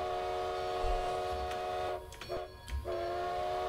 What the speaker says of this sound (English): Do a few toots of the whistle.